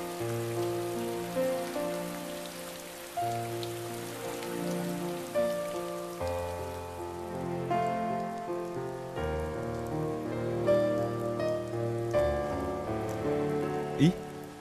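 Steady rain falls continuously in a TVB drama scene, an even patter of drops on surfaces lasting throughout alongside a soft musical score, with no talking.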